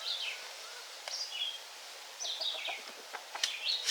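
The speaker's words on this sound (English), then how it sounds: "That's the little chicken following him." A small young chicken, an escaped meat bird, makes soft chirps and short calls in a quiet outdoor yard, several brief peeping notes spread across the moment with faint rustling between them.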